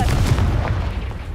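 A Confringo blasting spell explodes in the Hogwarts video game with a dense, booming blast and rumbling low-end crackle that fills the whole moment at close range.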